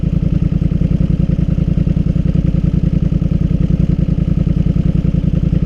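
A Can-Am Highlifter 850 ATV engine with a Big Gun exhaust idles loud and close, with a fast, steady, even thumping pulse and no talk.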